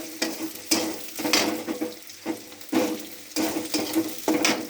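Onion frying in a pan for a fish curry gives a sizzling hiss broken by repeated scraping stirs in an irregular rhythm, close up with no talking.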